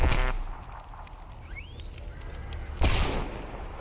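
Shots from a chargeable gun in the game G.A.M.M.A. sound as two sharp reports, the second following after a rising whine as the weapon charges.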